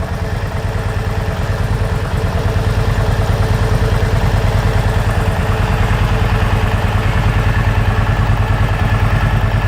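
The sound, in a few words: Kawasaki Vulcan 750 motorcycle engine idling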